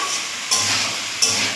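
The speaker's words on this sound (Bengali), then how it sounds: "ঘন ঘন নাড়তে হবে যাতে আলু লাল না হয়ে যায়" Potato pieces sizzle steadily in a hot pan over high heat, with two distinct scraping stirs breaking through the constant hiss, close and fairly loud.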